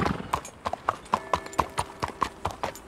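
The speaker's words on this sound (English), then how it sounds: "Can I tether my horse?" Horse hooves clip-clop in Red Dead Redemption 2, a steady walking rhythm of close, distinct hoofbeats on hard ground, moderately loud with no talk over them.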